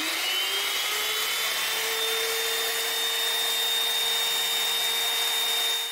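An electric drill spinning a DC motor runs steadily with a thin high motor whine and broadband rushing noise, constant and close throughout, with no voices.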